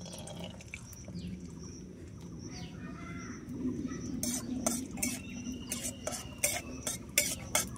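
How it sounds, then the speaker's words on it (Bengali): Peanuts frying in mustard oil in a kadai give a faint low hum, then brisk, irregular scraping and clattering as they are stirred. "চীনাবাদামটা ভালোভাবে ভেজে নেব"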